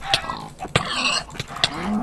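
A Minecraft cow mooing several times, loud and close, with short clicks and hits between the calls.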